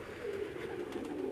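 Pigeons coo on a rooftop loft, a steady low, throaty warble that rolls on continuously for over a second, close and clear with no talk.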